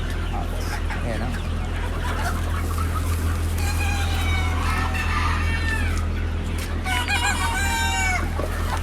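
Poultry in a yard clucking steadily, with a rooster crowing loudly twice near the middle and end, over a constant low hum and some faint talk.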